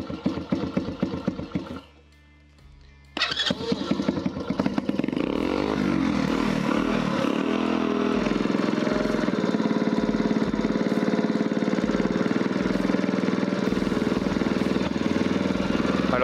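The small engine of a Doodee Charger moped revving, cutting out briefly, then restarting and settling into a loud, close, steady buzzing run.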